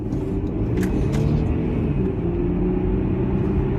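An Audi A6 car engine in sport mode drones with a deep, steady rumble heard from inside the cabin, loud and continuous with a slight swell as it pulls through a turn.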